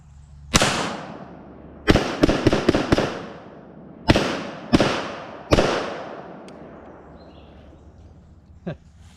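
A Rock Island XTM 22 rifle loaded with CCI rounds fires nine sharp, loud shots outdoors, one alone, then a rapid burst of five, then three more spaced out, each followed by a ringing echo tail.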